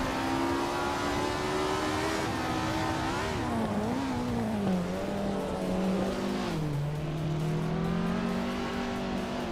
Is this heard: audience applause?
no